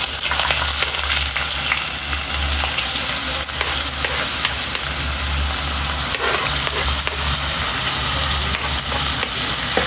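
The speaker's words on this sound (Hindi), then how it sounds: "हे नीट फ्राय झालं की आता आपण याच्यामध्ये कांदा टाकूया" Onions sizzle and fry steadily in a hot pan with spices, cooked toward golden brown for a home-style chicken masala, a loud continuous crackling hiss with occasional stirring and no talk.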